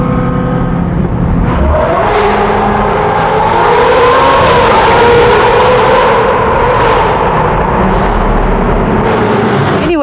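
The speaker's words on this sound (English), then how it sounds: "The way it sounds, it doesn't sound like any other twin turbo V8 I've ever driven." A Ferrari F8 Tributo's twin-turbo V8 accelerates hard, its loud close engine note climbing steadily in pitch as it pulls through the revs, with a brief shift near the end and no talking.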